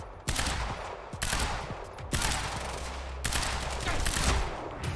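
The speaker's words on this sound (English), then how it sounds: "I shot that man several times in the groin." Rapid bursts of gunfire from the Quantum Break video game, several loud sustained volleys of shots in quick succession with short gaps between them, no talking.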